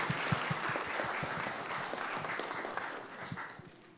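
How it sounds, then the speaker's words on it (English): An audience at a talk on monitoring breeding birds of prey claps for itself, a fairly soft, sustained patter of many hands with a few distinct nearby claps, fading slightly toward the end. "let's give ourselves a round of applause"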